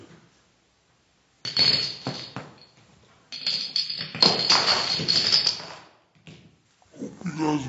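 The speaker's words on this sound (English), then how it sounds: "we're just gonna knock over some more dominoes" Dominoes knocked over in a row: bursts of quick clattering clicks and light tapping, with a pause between runs and a final cluster near the end, fairly close and moderately loud, no talking.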